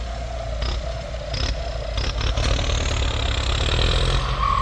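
Engine of a big 7610 turbo vehicle running steadily at close range, a continuous low rumble at constant revs that holds strong and unchanged throughout, with no talking.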